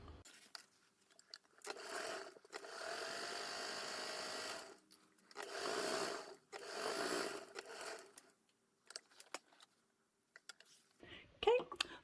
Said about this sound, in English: So follow me over to the sewing machine.